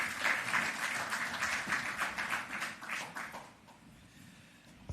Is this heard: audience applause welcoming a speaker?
yes